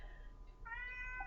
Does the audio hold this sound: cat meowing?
yes